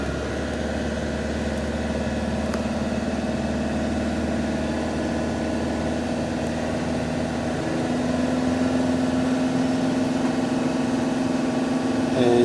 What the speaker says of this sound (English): Now I'm going to increase the engine RPM to 3000 RPM.